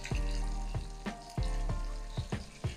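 Onion and vegetables sizzle steadily in a hot pan for a vegan Guyanese chowmein, with repeated sharp clatters and scrapes of stirring breaking through the constant frying hiss.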